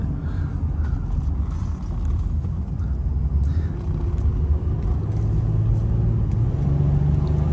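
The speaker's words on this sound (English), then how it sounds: "take a few miles drive down here to show you how nicely this Maxima does on the highway and freeway" A 2001 Nissan Maxima GLE with a V6 cruising at freeway speed, heard from inside the cabin as a steady low road rumble and engine drone with constant tire and wind noise and no pauses.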